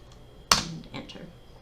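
A single crisp keystroke on a computer keyboard, followed by a couple of softer taps, close and fairly quiet against a low background hum.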